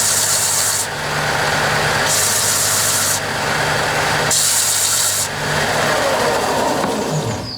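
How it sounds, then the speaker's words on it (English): A belt sander grinds steadily over a bumpy piece of guitar body wood for a Harmony Stratotone-style build, its motor hum constant while the abrasive rasp swells and fades in several passes as the wood is pressed on and lifted. "So we just stick this on a belt sander and just clean it up a bit."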